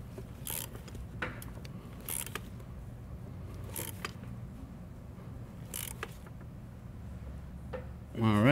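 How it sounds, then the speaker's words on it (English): An electric ratchet tightens an E18 bolt on a clutch-job bracket of a 2006-2011 BMW 328i with the N52 engine. Short, quiet mechanical clicks and whirring bursts come at intervals over a low background, with a louder rising whir at the end. "now that we've snugged it in using the electric ratchet"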